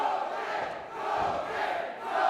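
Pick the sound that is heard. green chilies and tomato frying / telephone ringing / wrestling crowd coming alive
wrestling crowd coming alive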